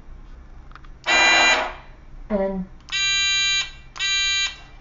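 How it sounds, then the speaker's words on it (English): A homemade push-button game show buzzer sounds in two loud, steady, harsh blasts, each under a second long, following a voice and some handling noise. "your buzzer should turn on."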